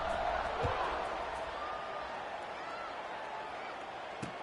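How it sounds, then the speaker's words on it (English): College football video game crowd buzzing after a score, a steady dense roar of stadium noise with faint thumps, filling the background evenly. "this crowd is buzzing after that last score"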